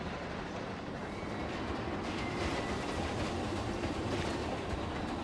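A train ride in the theme-park game Planet Coaster 2, modelled on the train from GTA, runs with a steady rumbling, clattering rail roar that stays constant and fairly loud throughout.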